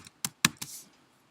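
A few sharp keystrokes on a computer keyboard, three or four distinct clicks in quick succession, close and fairly quiet, with no talk.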